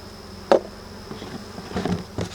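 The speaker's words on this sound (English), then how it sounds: "I need half a cup of those bees." Honey bees buzz on a hive frame being handled for a Varroa mite check, a close, uneven insect drone with a few louder bursts and knocks from the frame, no voices.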